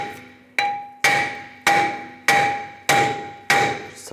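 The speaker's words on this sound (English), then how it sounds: "Now just take a hammer and just tap the rotor in this area." Hammer tapping the front brake rotor of a 2014-2023 Jeep Cherokee to loosen it: seven sharp metallic strikes at a steady pace, each ringing with a clear bright tone that decays before the next, close and clean with no talk.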